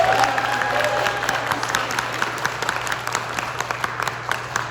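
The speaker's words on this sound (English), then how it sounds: "round of applause, please" An audience at a county Democratic Party chair forum in McKinney gives a full round of applause, with dense, lively clapping and a few scattered cheers throughout the short stretch.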